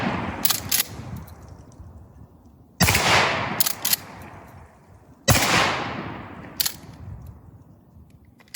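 A Remington 870 Express 20 gauge pump shotgun firing Federal Flight Control 00 buckshot at 15 yards on a range: several loud, booming shots spaced a few seconds apart, with mechanical racking clicks between them.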